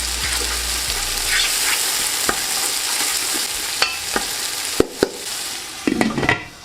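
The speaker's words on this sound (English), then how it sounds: "In with your tomatoes, give that a mix." Tomatoes, ginger and green chili sizzle in a hot pan for a kofta curry, a loud continuous fry broken by several sharp clacks and scrapes as the mixture is stirred.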